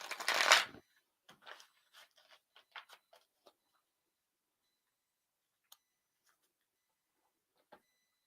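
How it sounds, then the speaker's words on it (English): Cards from a Psychic Tarot deck are pulled and handled, opening with a close rustling burst and then a string of small taps and flicks that thin out into sparse faint clicks amid near silence. "Now let's just pull a few cards from Psychic Tarot for you."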